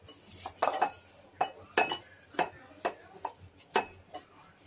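A utensil scrapes and taps against a dish while a minced meat layer is spread for a layered non-veg cake, a series of irregular close clinks and scrapes at moderate loudness, no talking.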